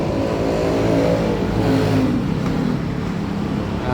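A Suzuki SkyDrive 125 scooter engine revs continuously, a loud, close, steady roar with no talk over it.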